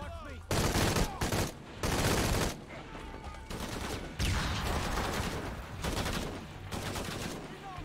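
Enemy gunfire in Shadow of the Tomb Raider comes in several loud, dense bursts with short gaps, close and heavy, like volleys of automatic fire.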